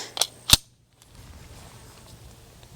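Two sharp shots from an IMI Jericho 941F pistol crack in quick succession at an outdoor range, followed by a brief silence and faint background rumble.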